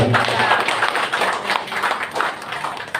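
A crowd claps for a guest at a Laskar Merah Putih regional gathering in Banten, lively uneven clapping with some cheering voices mixed in, fairly loud and close.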